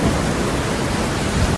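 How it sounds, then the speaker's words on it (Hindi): Heavy rain pours steadily by a poor family's riverside house, a dense unbroken roar with low rumbling that suggests thunder, loud and close throughout with no voices. "बारिश लगातार होते ही जा रही थी।"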